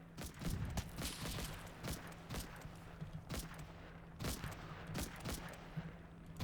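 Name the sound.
30 caliber machine gun fire in Combat Mission: Battle for Normandy video game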